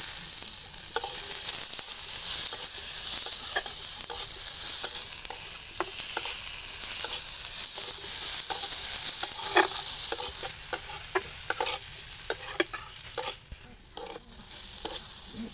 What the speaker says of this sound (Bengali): পেঁয়াজটা হালকা নেড়ে সেড়ে টমেটোটা দিয়ে দেবো